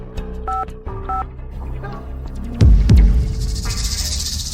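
A telephone number is dialed on a keypad, producing a quick run of short, paired beeps in an uneven rhythm, followed by a louder thump and a low rumble. No one speaks.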